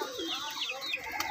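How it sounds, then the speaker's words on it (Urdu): Close pigeons cooing and fluttering softly, a few overlapping calls in a short burst, with faint background noise. "کبوتروں کو اب ہم باہر نکالیں گے، سب کبوتروں کو باہر"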